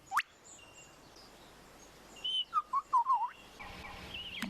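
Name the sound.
bird mimicking human whistling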